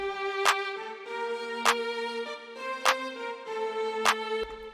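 A programmed West Coast-style drum beat in FL Studio puts a meaty clap on the 3, striking four evenly spaced times over a sustained synth melody, clean and up front with no talking.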